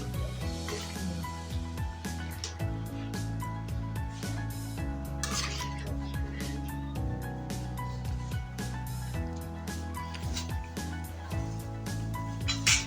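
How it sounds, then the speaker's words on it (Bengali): A spoon scrapes and clinks in a pot as coriander leaves are stirred into a bottle gourd and taki fish curry, a steady close stirring rhythm over a constant low hum. "ধনিয়া পাতাটা দিয়ে আমি ভালো করে মিশিয়ে নিচ্ছি"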